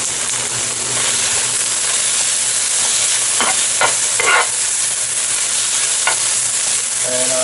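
Brussels sprouts sizzle loudly in a hot pan during a stir fry, a continuous close frying hiss with a few brief louder spatters and stirring scrapes, no voices over it.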